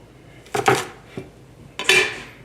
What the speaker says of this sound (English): I just give them a bite-size chop.